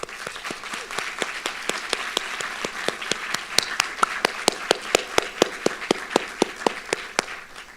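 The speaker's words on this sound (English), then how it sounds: "Let's give them a hand of applause." At a nursing graduation ceremony, audience applause rolls on with one loud, close clapper striking a steady rapid rhythm above the softer crowd clapping.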